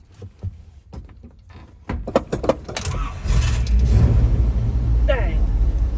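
A street-driven drag car engine cold-starts with a sharp crank, then settles into a loud, sustained low rumble close by, with people talking beforehand.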